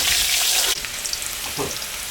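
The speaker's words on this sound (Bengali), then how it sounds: "আলুটা একটু ভাজা ভাজা করে নেব।" Potatoes fry in a hot pan with cumin, dried chili and bay leaf, a loud steady sizzle that dips sharply partway, followed by softer crackling and a brief stirring scrape.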